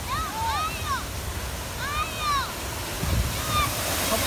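Real water runs across a mini golf course, a steady rushing wash heard throughout while birds chirp overhead in bursts.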